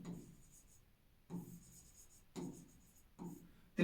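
Hand writing on a board during a maths lesson on the area of a circular sector, heard as several short scratchy bursts of chalk or marker strokes separated by pauses, close and fairly quiet.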